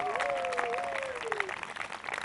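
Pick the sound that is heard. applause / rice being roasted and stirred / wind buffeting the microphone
applause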